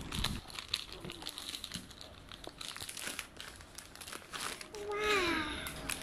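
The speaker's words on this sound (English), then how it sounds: "Now I'm going to unwrap this Play-Doh set." Plastic packaging of a Play-Doh set crinkles and crumples in bursts close up as it is unwrapped, with a voice and babbling heard over the rustling.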